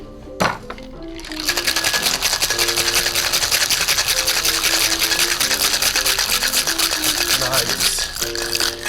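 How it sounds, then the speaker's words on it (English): Ice rattles hard inside a cocktail shaker during a wet shake for a whiskey sour, a steady rapid rhythm lasting several seconds, loud and close, with a held musical tone running underneath. "And all we're gonna do on this first wet shake is just shake to chill."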